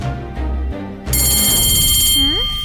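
A school bell rings loudly in a continuous electric tone over a busy, mixed background, with a rising whistle-like sweep near the end.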